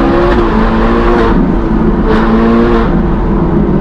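A Ferrari engine revs hard under acceleration on the road, a loud, continuous droning roar with rising pitch sweeps as it climbs through the gears, close and steady throughout.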